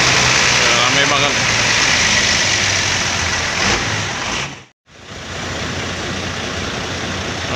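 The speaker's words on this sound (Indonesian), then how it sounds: "Suara mesin 1626." A bus with a 1626 engine idling close by, a loud steady rumble with a rough broadband roar that briefly drops out near the end before resuming.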